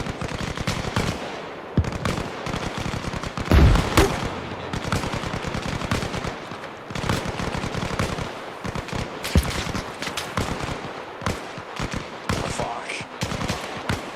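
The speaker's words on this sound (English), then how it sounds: "Yeah, they're returning fire accurately." Sustained gunfire exchange in the video game Arma Reforger during a large team battle: dense, loud bursts of automatic fire and rapid single shots crackle almost continuously, some close and punchy, others more distant.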